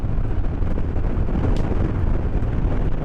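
Cold wind buffeting the rider on a Harley Road King motorcycle, a constant loud roaring rush of turbulent air over the microphone, with no talking.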